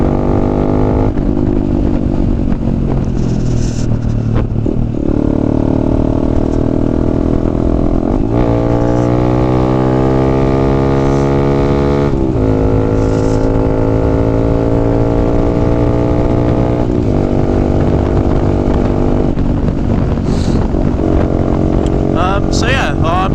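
Honda Grom motorcycle engine droning steadily while riding, with rising and falling pitch through gear changes and throttle shifts, loud and continuous throughout.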